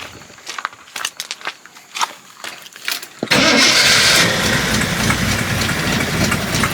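A tired carburetor V8 in a 52-year-old Jeep Wagoneer cranks over and catches, then idles roughly and loudly up close with a dense, steady rumble after a few quiet clicks.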